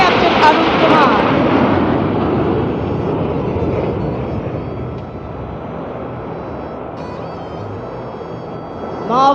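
Indian Air Force aircraft in a flypast roar loudly over Kartavya Path at a Republic Day parade, a broad steady rumble slowly fading with wind buffeting and a voice talking faintly underneath.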